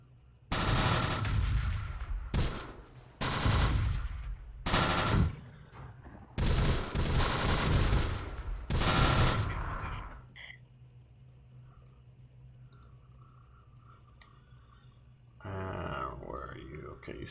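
Rifle fire in the WWII tactical game Close Combat: The Bloody First: a series of loud, sharp shot bursts for about ten seconds, then quieter battlefield ambience and faint talk.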